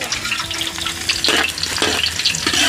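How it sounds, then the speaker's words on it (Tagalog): Chicken pieces fry in hot oil with a loud, steady crackling sizzle, close by, while the pan is stirred and clattered partway through. "Prito ng manok."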